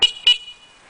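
Two short, close horn blasts from a Triple Threat PedalChopper motorized bike, the second slightly longer, each ringing briefly before fading into a faint ticking hum.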